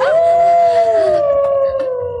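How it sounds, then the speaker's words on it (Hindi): A single long, loud dog howl sustained for about two seconds, slowly fading at the end, with no barking evident. "अचानक कुत्ते के भौंकने की आवाज"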